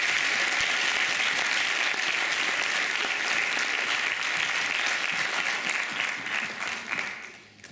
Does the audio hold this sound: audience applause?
yes